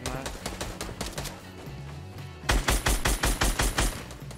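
Gunfire in Fortnite Battle Royale crackles in steady rapid bursts. Quicker shots come first, then a louder, heavier string of evenly spaced rounds after a brief lull, all close and punchy.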